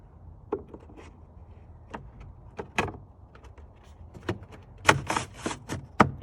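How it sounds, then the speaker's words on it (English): Clicks and scrapes of a plastic trap door being slid through its guide during spark plug replacement on a Porsche Macan, sparse taps at first, then a cluster of louder sharp snaps close by. "Then the trap door will go in through the guide there."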